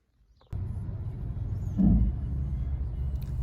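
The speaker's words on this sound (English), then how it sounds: "So a little bit of traffic on the road," A car drives along a road in Cyprus, a steady low engine and tyre rumble that starts abruptly and swells briefly midway, with no speech over it.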